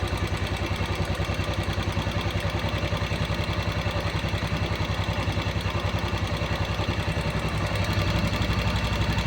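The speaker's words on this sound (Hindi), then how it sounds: "और बढ़ाते हैं, जहाँ तक बढ़ती है रेस बढ़ाते हैं इसकी मिक्सचर से" A Royal Enfield Classic single-cylinder engine with a cold-morning starting problem runs close by, its even, rapid thumping pulse rising slightly in pace near the end as the idle is raised through the mixture screw.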